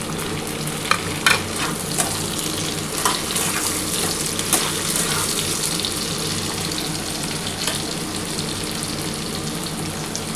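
Tomato and green chilies fry in a pan with steady crackling sizzle, punctuated by a few sharp clinks and scrapes of stirring, close and continuous without talk.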